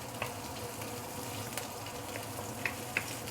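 Roast pork and garlic sauté in a pan for claypot fish head, a soft, steady sizzle broken by a few sharp pops and spatters, with no one speaking.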